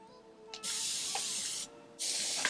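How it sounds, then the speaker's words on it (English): Two long bursts of fine misting water from a pump spray bottle onto hair, close by, with a brief pause between them. "going to spray this a little bit so that way these braids can sit a little properly"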